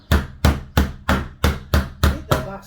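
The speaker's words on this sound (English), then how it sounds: "He's got his glazing hammer there, look." Eight sharp, even taps of a glazing hammer in quick succession on uPVC double-glazed window glazing, close and fairly loud, with no talking.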